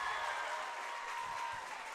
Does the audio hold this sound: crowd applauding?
yes